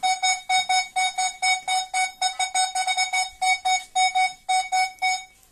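Signal tone from a Minelab Equinox 800 multi-frequency metal detector, a series of sharp, rapid electronic beeps in quick bursts of varying rhythm, loud and close with no talk.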